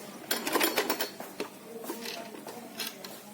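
A sewing machine stitches fabric lining along marked lines for a simple suit, running in short quiet bursts with light mechanical clatter and pauses between runs.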